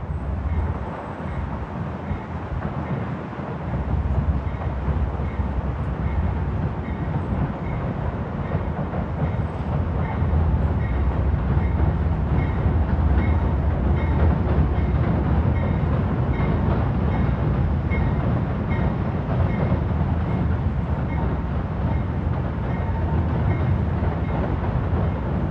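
A Metro-North train rolls past in New York City, a loud, steady rumble and rattle of wheels on rails that holds constant for the whole stretch, close by, with no voices.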